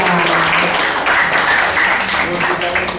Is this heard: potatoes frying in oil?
no